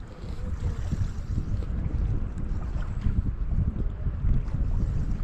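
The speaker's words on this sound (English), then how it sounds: "Wouldn't be so bad if that wind wasn't blowing right in my face." Strong wind blows across the microphone outdoors during trout fishing, a loud continuous buffeting rumble with gusts and no talking.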